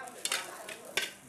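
Beef fried rice with pickled mustard greens is tossed in a pan, giving a soft sizzle broken by a few quick scraping stirs of a spatula, close and brief.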